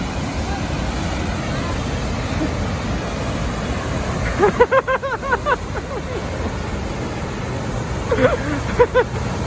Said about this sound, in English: That's definitely a waterfall.